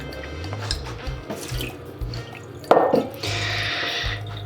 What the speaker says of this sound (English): Then we add 283 grams of lukewarm water.